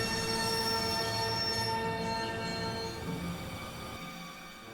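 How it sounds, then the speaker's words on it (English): A train in the Broken Sword adventure game rumbles and screeches along the rails, a dense steady metallic roar with sustained wheel squeal that gradually eases and thins toward the end. "I'd always wanted to stop a train, and now was my chance."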